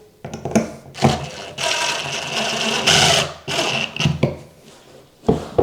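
A power screwdriver drives screws through a wood patch into a plywood subfloor, giving several loud whirring bursts of varying length separated by short pauses, close up with no talking.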